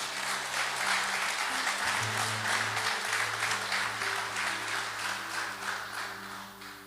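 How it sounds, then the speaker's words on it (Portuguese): A church congregation gives Jesus a sustained round of applause during a worship service. Dense, even clapping fills the room for several seconds at a steady loudness, with a low sustained organ or keyboard tone underneath. "Eu quero que você aplauda Jesus"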